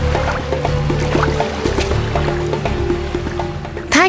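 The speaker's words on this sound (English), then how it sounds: "John grabbed him and pulled him out of the water to safety." Water sloshing and dripping in an animated children's story as a drowning boy is pulled out, wet squishy splashes and drips throughout, ending in a brief sharp rising sweep.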